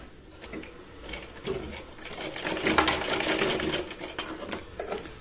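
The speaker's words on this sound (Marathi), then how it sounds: "या साईडला पण आपण 2 ते 3 वेळा शिलाई लावून घेऊया." A sewing machine runs in steady bursts while stitching a katori blouse during a tailoring class, its rapid mechanical clatter rising and easing in loudness across the clip.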